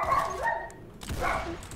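Pet dogs barking indoors during a Roblox Arsenal gaming session, a few short barks and yips, moderately close, with no talking over them.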